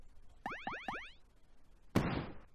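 A video game enemy death sound effect: a quick series of springy boing sounds bounces downward, followed moments later by a sharp burst of noisy crunch, both clear and isolated.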